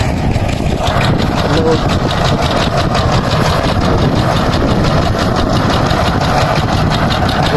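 A power tiller engine runs loud and close in a rice paddy field with a steady rapid chugging rhythm throughout, unchanging for several seconds.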